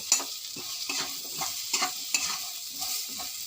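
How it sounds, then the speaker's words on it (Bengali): Mango pieces fry in a pan as a soft, continuous sizzle, broken by repeated scraping stirs that come every half second or so, close and fairly quiet, with no talking. "ভালো করে ভেজে নিলাম আমগুলো।"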